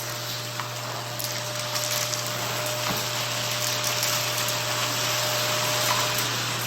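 A Prolux bagless garage vacuum cleaner with a long hose runs steadily, sucking up pellets and debris with a constant loud motor whine and airy rush, occasional small rattles of particles through the hose.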